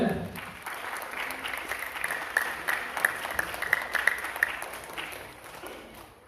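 An auditorium crowd at a college award ceremony in Kurunegala bursts into sustained, fairly distant applause, a thick wash of clapping with a few sharper claps standing out.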